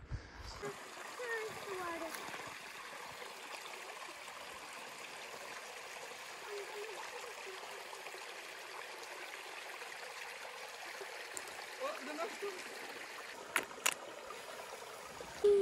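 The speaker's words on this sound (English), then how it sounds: "Be careful drinking from wild streams." A wild stream flows and splashes steadily at close range on hill country land, a continuous watery rush with small trickles and splatters running throughout.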